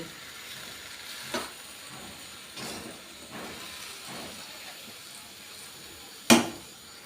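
Prawns and Malabar spinach being stirred and mixed in a pan: faint steady sizzling hiss with a few soft scraping strokes spaced out, ending in one sharper clatter of the utensil.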